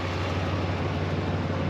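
A 1991 Chevy S-10 pickup truck engine idles smoothly after a fuel filter change, a steady low hum with no talking.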